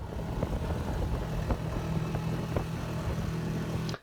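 Sailboat with a broken rudder motoring back under engine power after a race around Sunday Island, giving a steady, faint low engine drone with wind and water noise and no voices.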